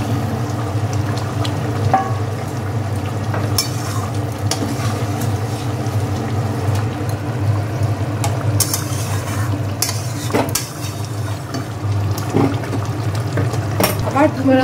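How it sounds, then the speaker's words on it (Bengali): Boal fish curry in a yogurt gravy bubbling steadily in a pan, a continuous close simmering hiss with occasional clinks and soft scrapes over a low hum. "ঝোলটা দেখো ভালো করে ফুটে গেছে সুন্দরভাবে"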